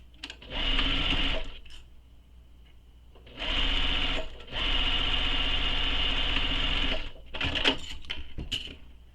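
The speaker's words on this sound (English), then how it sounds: "sew these sides using the seam allowance given in the pattern" A sewing machine stitches the side seams of a fabric bag in three close, loud runs of rapid whirring, separated by short pauses with faint handling sounds.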